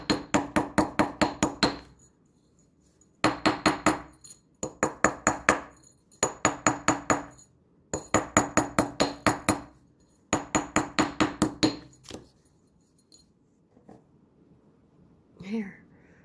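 Rawhide mallet tapping metal jewelry for a bar necklace, rapid runs of sharp strikes in clusters of about six to eight, separated by brief pauses, close and crisp, fading to near silence at the end.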